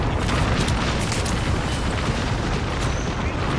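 Continuous heavy booming from Bangalore's ultimate artillery strike in Apex Legends during a Blaze Cup tournament match, a dense rolling barrage of explosions that stays loud and unbroken throughout.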